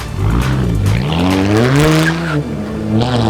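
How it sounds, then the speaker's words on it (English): A Dodge Charger drives past loud and close, its engine revving with rising and falling pitch and a hint of tire squeal. "The Dodge Charger, the official car of making a statement without saying anything at all."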